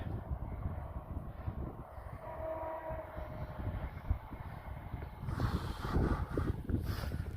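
A distant train rumbles low and steady across open air in a valley along Hadrian's Wall, the noise swelling slightly toward the end.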